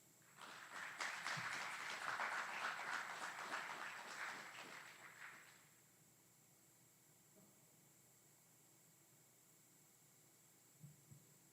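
An audience at an Army graduation ceremony applauds drill sergeants and instructors, a dense, distant wash of clapping that lasts about five seconds and then fades to a quiet room hum with a few soft thumps.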